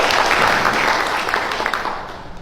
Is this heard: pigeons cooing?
no